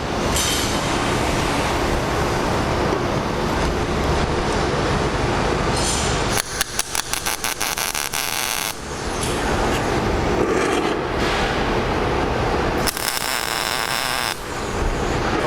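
A MIG welder tack-welds the corners of a differential cover, producing a loud continuous crackling hiss broken by a couple of sharper, sputtering bursts.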